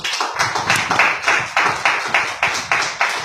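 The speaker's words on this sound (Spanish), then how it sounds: "Denle un aplauso al Señor esta noche." A church congregation claps in unison, a steady rhythmic beat of about three claps per second sustained throughout, fairly close and with no voices over it.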